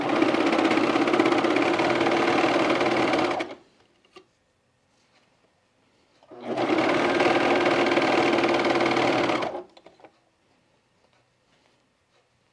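A sewing machine stitches pajama bottoms in two steady, loud runs of several seconds each, separated by a quiet pause with faint handling of the fabric.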